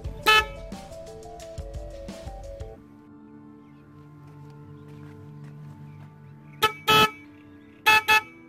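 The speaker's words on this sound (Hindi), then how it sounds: "अब मैं आपको इसका हॉर्न का साउंड आपको मैं सुनाता हूँ।" Horn of a Suzuki GS 150 SE motorcycle, fitted with a toggle switch, sounds in several short toots: two bursts at the start, then a steady tone, then three more honks near the end, close and loud.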